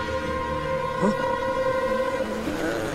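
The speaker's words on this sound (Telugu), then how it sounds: "వాడికి ట్రైన్ శబ్దం వింటే భయం, తల తిరిగి పడిపోతాడు" A train rumbles past with a sustained horn-like tone droning through, steady and fairly close, with no voices.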